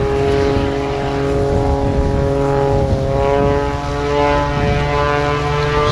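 A propeller aerobatic airplane performs at an airshow at New Smyrna Beach, its engine droning loud and steady with a rising, shifting pitch as it maneuvers overhead, with no talk.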